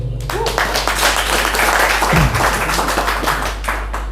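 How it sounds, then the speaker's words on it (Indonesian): A crowd claps at a Surabaya panel discussion on the 2024 election, a dense, close burst of hand-clapping that stays steady for several seconds, with a voice briefly speaking over the start. "Tepuk tangan untuk kita semua ya"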